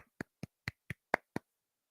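Six quick, evenly spaced hand claps on a morning talk show, crisp and fairly quiet, sounding alone with silence between them.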